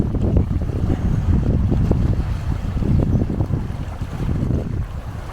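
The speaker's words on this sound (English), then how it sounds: "It's proper windy, check it out for yourselves." Strong wind buffets the built-in microphone of a DJI Pocket 2 camera outdoors, making a loud, continuous low roar with gusty rumbles and no voices.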